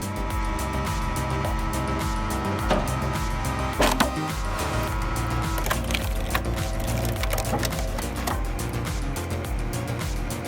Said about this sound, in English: The 30-ton Splitmaster powers through giant logs like a pro.